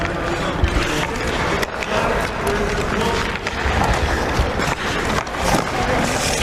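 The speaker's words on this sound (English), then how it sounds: "this is the sound of Sheffield's first ever sledge hockey team" Sheffield Steelkings, the city's first sledge hockey team, train on an ice rink: a continuous broadband clatter of scraping blades, sticks and knocks carries steadily throughout, with a busy, echoing arena feel.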